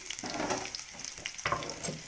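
Mustard greens and garlic hit hot oil in a pan and splutter and hiss, with a sharp burst of crackling partway through; the frying is close and fairly quiet, and no one speaks over it.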